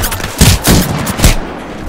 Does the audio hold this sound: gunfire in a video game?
yes